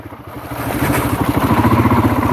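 Royal Enfield Himalayan motorcycle riding a UK trail in a low gear: a loud, close, steady single-cylinder engine thrum with a rapid even pulse and mechanical clatter, holding a constant speed with no talking.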